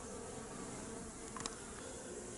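Honeybees climbing up into a hive feeder filled with syrup, a steady dense buzzing drone throughout with a few brief louder passes up close.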